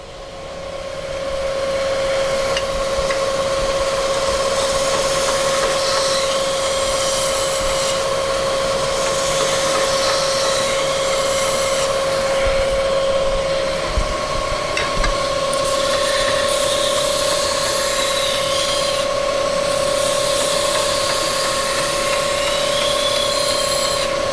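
An RPS 2x72 belt sander grinds a piece of mild steel, a loud, steady abrasive hiss with a constant motor whine running unbroken throughout, close to the microphone.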